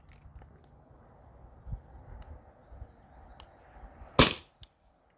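A Byrna SD launcher fires a single sharp, loud crack of a Salt Supply round over a chronograph, followed by a faint tap, against quiet background rustle.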